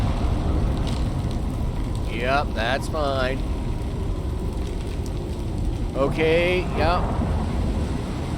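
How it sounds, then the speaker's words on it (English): Wind blowing during a storm in the survival game Icarus, a steady broadband rush running through the whole stretch, with someone talking briefly over it twice. "pretty windy out there, I would say"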